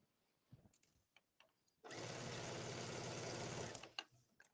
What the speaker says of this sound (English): I'm doing this on the sewing machine.